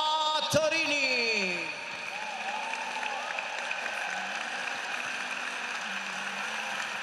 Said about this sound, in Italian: Accogliamo con un grande applauso il preparatore fisico Sara Fattorini.